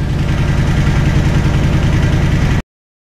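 A motorcycle engine idling steadily with a regular low throb during a voltage regulator test on a new RM stator, close and loud and running without pause until it cuts off abruptly near the end.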